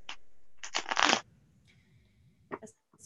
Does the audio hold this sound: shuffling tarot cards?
yes